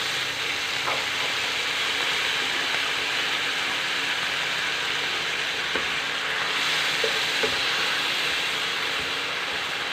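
Chinese celery stir-fried with fried egg tofu gives a continuous broad hiss of sizzling in the pan, steady and fairly loud, with a few soft knocks of stirring and no speech.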